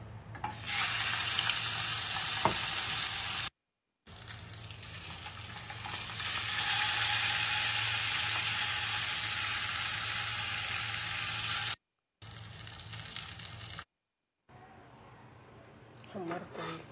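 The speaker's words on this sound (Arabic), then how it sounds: "حمرت السلمون كده من كل الاتجاهات لحد ما استوى" Salmon fillets sizzling in olive oil in a pan, a steady loud frying hiss broken by brief pauses, with faint kitchen clatter and no talk over it.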